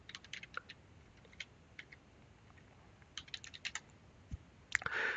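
Keyboard shortcuts tapped out on a computer keyboard while working in the Temenos T24 Classic banking software, heard as quiet, sparse clusters of crisp key clicks with pauses between them and a louder clatter at the end.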